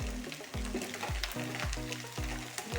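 Cabbage and carrots fry in butter in a pan while cooking chicken chow mein. A steady loud sizzle runs throughout, broken by regular rhythmic scraping and stirring strokes about every half second, with no talking.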